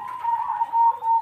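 A perkutut Majapahit zebra dove cooing: a short, clear, close call of soft rolling coos lasting just over a second, alone without talk.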